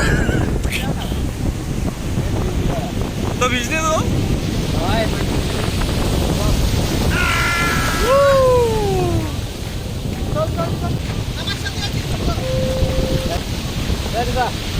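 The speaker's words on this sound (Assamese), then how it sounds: "এয়া সাগৰ এয়া সাগৰ" Sea waves and steady wind at Puri beach form a constant roar, with gusts buffeting the microphone while people talk over it throughout.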